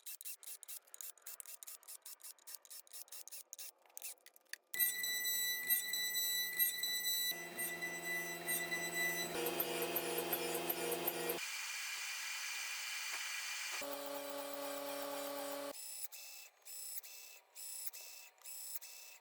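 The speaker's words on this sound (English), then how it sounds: "throw it on the CNC router and mill in those" A CNC router milling a metal wall whines and hums through a series of steady pitched tones that shift abruptly, with rapid mechanical ticking at the start and end.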